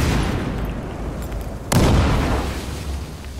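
A grenade sets off gas cans in the shooter game Battlefield Hardline, a single sudden blast that bursts out of a steady rumbling background and then rolls away in a long, loud roar.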